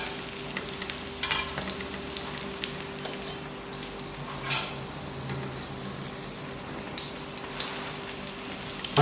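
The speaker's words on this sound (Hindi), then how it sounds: "इनको आपने हल्की आंच पे तलना है।" Beef qeema tikki kebabs fry in oil over a low flame, giving a steady, close sizzle with soft popping and spattering throughout.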